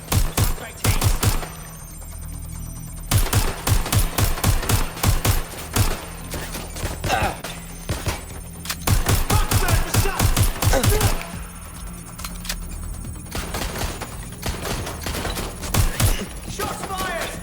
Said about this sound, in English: Shots fired! Got! Incoming fire!